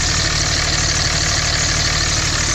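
Dodge Cummins diesel engine idling with a straight exhaust off the header, a loud, steady close-up clatter and rumble with no voices.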